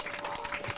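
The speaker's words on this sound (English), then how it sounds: "Please clap for them." A short burst of audience clapping, quiet and somewhat muffled, with a steady tone running underneath.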